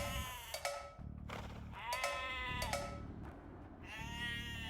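Sheep bleat repeatedly in the strategy game Age of Empires II, several clear, wavering calls in a row over a low steady game backdrop, with no talking.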